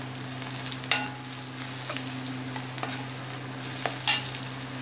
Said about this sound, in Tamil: மஞ்சத்தூள் சேர்த்து கொஞ்சம் வதக்கி விட்டுருங்க.